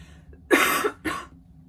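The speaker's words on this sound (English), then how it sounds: "Ignore that cough." Two sharp coughs close to the microphone, the first longer and rougher, the second short, then quiet.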